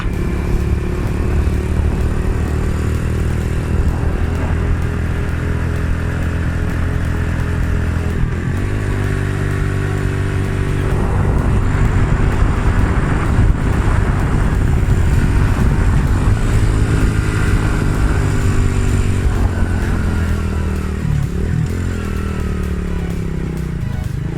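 Motorcycle ridden along a rural hill road while carrying baskets of picked tea, its engine droning steadily and close, pitch rising and falling as it shifts and accelerates, with rattling clatter underneath.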